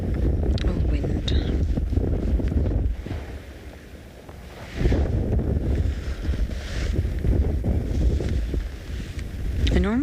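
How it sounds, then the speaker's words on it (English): Gusty wind buffets the microphone outdoors on an afternoon safari drive at twin dams in South Africa, a steady low rumble that dips briefly and then surges again, with faint speech underneath. "Oh, wind."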